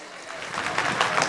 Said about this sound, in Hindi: एक बार यार तालियां बजा दो सब लोग